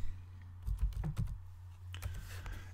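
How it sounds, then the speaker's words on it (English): Several quick bursts of keystrokes sound on a computer keyboard as a short word is entered into an Excel chart label, close and moderately loud with no talking. "So there I'll type in sales."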